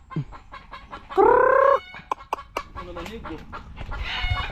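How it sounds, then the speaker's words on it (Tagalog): A chicken lets out a loud squawking cackle, followed by a few short clucks and some rustling nearby. "Galit yung manok."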